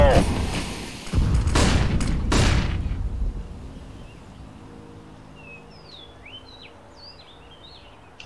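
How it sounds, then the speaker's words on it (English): Two loud grenade blasts go off close together in the CS:GO match on Inferno, then the noise dies into quieter ambience with scattered bird chirps. "Grenade out."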